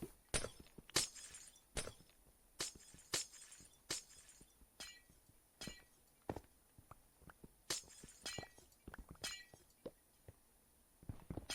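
Glass blocks mined and broken in a Minecraft modpack, heard as a quick irregular series of small crisp shattering clinks, roughly a dozen bursts spaced closely, fairly quiet and alone without talk.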